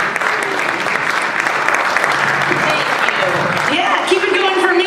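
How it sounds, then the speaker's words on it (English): An audience at a talent show breaks into sustained applause, dense clapping filling the room at close range, with a voice faintly audible beneath it. "Shanti and Imran, a big round of applause to them"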